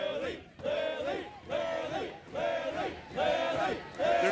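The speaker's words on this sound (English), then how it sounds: "They're cheering for you?" A crowd at a live streamer Simon Says game event cheers and chants in loud, rhythmic repeated bursts that swell and dip over a few seconds.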